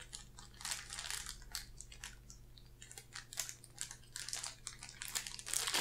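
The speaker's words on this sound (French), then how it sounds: "je vais ouvrir la petite pochette plastique si possible" A small plastic pouch holding two cables for a mini portable Bluetooth speaker is torn open by hand, giving a run of close, quiet plastic crinkles and crackles that keeps on steadily with no talking.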